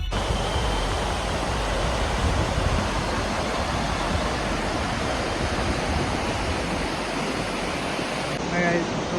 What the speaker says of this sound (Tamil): அருவி சூப்பராக தண்ணி நிறையவே வந்திருக்கு இந்த வாட்டி